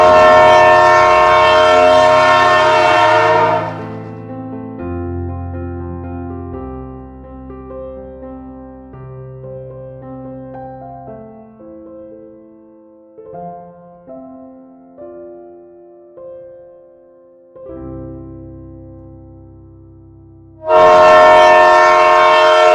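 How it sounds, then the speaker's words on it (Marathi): A Matheran toy train stands at the station in fog, its horn blaring loud and close in long harmonic blasts at the start and again at the end, with softer tonal sounds between. "माथेरान स्टेशनचं मुख्य आकर्षण ही टॉय ट्रेनच आहे."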